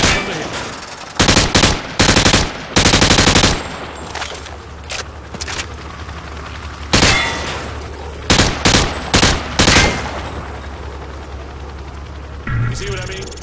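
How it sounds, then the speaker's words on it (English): Gunfire from the hip at range targets in Call of Duty: Modern Warfare 2: several loud bursts of rapid automatic rifle fire, some long and sustained, separated by pauses, with game ambience and faint voices underneath. "Turn around and fire at the targets. Just fire from the hip."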